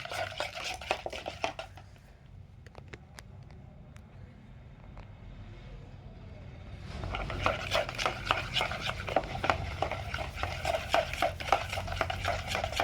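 A spoon stirs sugar into curd in a bowl for an eggless cake batter, giving quick scraping clicks and taps that fade for a few seconds and then return as a dense, busy rhythm, close and without talk.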